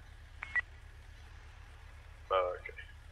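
Two short telephone dialing tones sound in a roleplay video game, a brief one early and a longer one later, heard over a steady low hum and quiet background.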